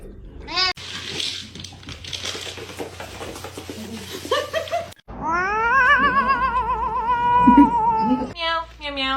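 A cat caterwauls in long, wavering, rising and falling yowls, close and fairly loud, after an earlier stretch of rustling and shorter cries; a person talks briefly in between.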